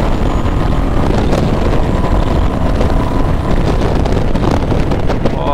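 A 2021 Royal Enfield Classic 350 motorcycle ridden flat out at top speed: a constant loud roar of wind buffeting the microphone over a low, steady engine drone, with no talking.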